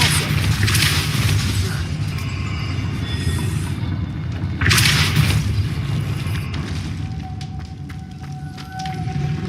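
A Depulso force spell cast in the Hogwarts Legacy video game gives a broad whooshing burst, then a second blast a few seconds later. Both sit over a dense, steady rumble of game ambience, with no talk.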